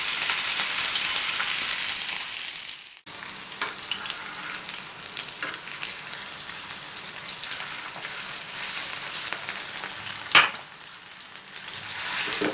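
Peshawari-style chapli kababs fry on a tawa griddle over low flame, a loud steady sizzle with a brief dip near the start and scattered pressing and scraping knocks, one sharp clack later.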